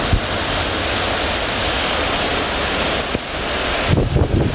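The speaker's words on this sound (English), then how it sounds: "I'm going to step out here into the rain." Heavy monsoon rain pours steadily outdoors in Scottsdale, Arizona, a dense, loud, continuous hiss, with a brief rustle and a few close clatters near the end.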